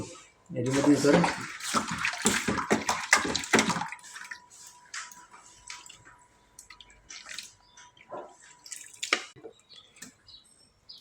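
Buttermilk is poured over flattened rice and curd, giving several seconds of close, wet splashing and gurgling before it settles into quieter dribbles and faint rustling.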